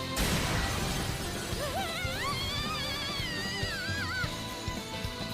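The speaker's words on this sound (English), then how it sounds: "The Section C beginning is matched by the sound of the glass shattering and Gojo teleporting." Glass shatters loudly in a Jujutsu Kaisen anime scene, a sharp crash at the outset giving way to swirling, warbling tones and dense scattered debris textures that continue throughout.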